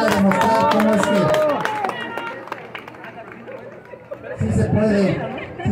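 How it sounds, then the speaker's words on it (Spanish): Spectators clap for a young runner at a traditional indigenous women's race in Cuacuila, Huauchinango, the scattered applause and crowd chatter running under a loud announcer's voice. "Los aplausos para esta pequeña número 11"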